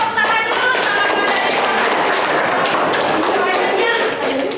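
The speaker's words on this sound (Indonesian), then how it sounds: "Kita tepuk tangan dulu" Classroom applause for a group presentation in an Indonesian teacher-training session, a dense steady patter of many hands clapping for several seconds with some voices mixed in.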